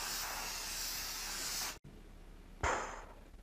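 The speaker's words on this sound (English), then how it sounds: "we got this highly toxic hairspray here, and we're gonna go ahead and spray it all around" Hairspray aerosol sprayed around a room, a long steady hiss held for close to two seconds, then a short gap and a second, shorter burst that fades out, loud and close with no voices.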